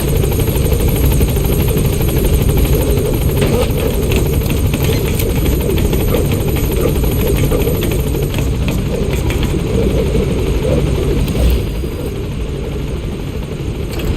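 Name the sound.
helicopter in video game Metal Gear Solid V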